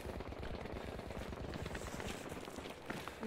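Rapid bursts of gunfire from the video game Battlefield V, dense and continuous, with steady automatic fire throughout.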